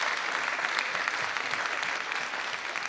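A theatre audience at a talent show in the Teatro Trianon gives steady, dense applause, a continuous wash of many hands clapping at moderate loudness with no break.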